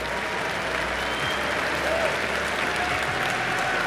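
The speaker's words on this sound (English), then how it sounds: "Please, a round of applause for them." A large arena audience at The International 2024 esports event in Copenhagen gives sustained, dense applause for short film contest participants, a steady wash of clapping and crowd noise throughout.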